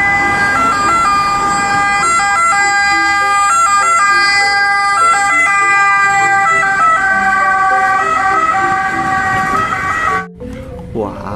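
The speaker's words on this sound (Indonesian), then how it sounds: "Di sini ada mobil ambulans." A toy ambulance plays a loud electronic siren, a steady warbling two-tone wail running close and continuous before cutting off near the end.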